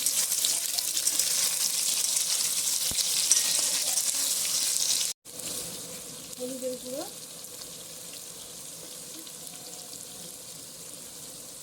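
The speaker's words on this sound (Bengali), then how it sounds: "টমেটো কুচিগুলো ভাজা ভাজা হবে" Potatoes and chopped tomato sizzle steadily in a pan, loud and broadband at first, then softer after a brief break, with a few spoken words and some stirring over the frying.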